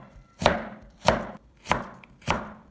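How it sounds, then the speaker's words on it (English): A knife cuts a carrot into strips on a cutting board with four crisp, evenly spaced chops, each a sharp close knock against the board with quiet gaps between. "Take half a carrot, slice it thinly with even thickness. Then cut into strips."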